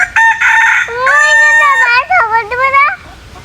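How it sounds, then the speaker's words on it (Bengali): A chicken climbing a tree lets out loud, close, drawn-out squawking calls in a few strained bursts, with no speech over it. "কি মুরগি মুরগি গাছে উঠছে"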